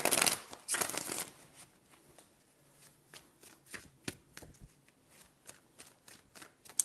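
Tarot cards are shuffled by hand close up, a dense riffling burst at the start followed by scattered soft taps and slides of the deck.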